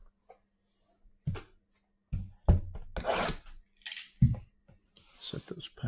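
Scissors snip open trading card packs in a few sharp, close cuts with crinkly wrapper rustles between them, set apart by short silences.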